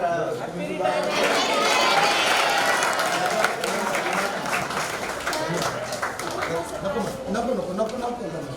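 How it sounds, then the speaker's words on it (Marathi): An audience at a teacher's retirement ceremony applauds with sustained clapping from a crowd, mixed with chatter and overlapping voices throughout. "सर्वांनी हॅपी रिटायरमेंट म्हणा आणि टाळ्या वाजवा"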